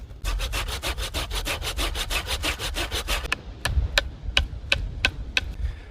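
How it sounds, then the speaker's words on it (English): A hand saw cuts a kerf along the top edge of a piece of wood, fast rhythmic rasping strokes up close, then slowing to a handful of spaced, separate strokes toward the end. "I'm going to put a saw kerf right along the top"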